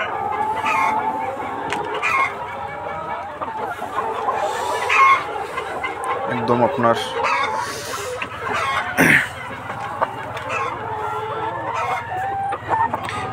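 Layer hens and roosters on a poultry farm cluck and call continuously, with overlapping squawks and a crow rising above the flock, fairly close by, while someone speaks briefly.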